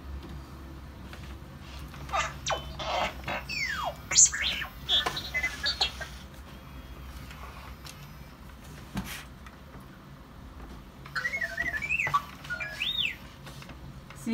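R2-D2 toy robot droid whistling, a string of bright rising and falling chirps and beeps in quick bursts, a pause, then another chirping run near the end, close and fairly clear over faint background noise.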